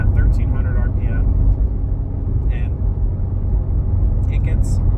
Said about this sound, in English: I do a lot of highway driving, which I'm doing right now. I'm in 6th gear at 1300 RPM.